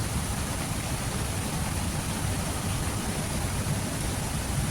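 Heavy rain pours steadily during Typhoon Crising near a river, a dense and unbroken hiss that fills the whole stretch without pause or voices.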